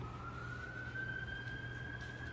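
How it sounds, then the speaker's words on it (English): An ambulance siren wails steadily at a distance, a single sustained tone that rises slightly over a faint background hum, with no talk in the clip. "There's the old ambulance."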